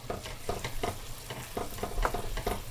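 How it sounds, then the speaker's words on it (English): Macaroni sauce ingredients are stirred together in a frying pan, with a utensil scraping in a steady rhythm of soft strokes over a low sizzle, close and moderately loud, with no talking. "Then mix everything together."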